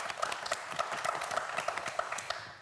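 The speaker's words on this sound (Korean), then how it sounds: "최우진 학생에게도 박수 한번 부탁드립니다." An audience at a televised Korean quiz show applauds, with sparse, fairly faint claps scattered in an uneven patter.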